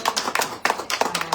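A small audience at a book presentation claps in a short burst, with distinct hand claps in uneven clusters, close and fairly loud.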